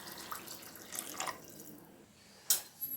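Water poured into a pot of rice for cooking tomato rice, a soft splashing, trickling flow over a few seconds ending with a couple of sharper drips and clinks.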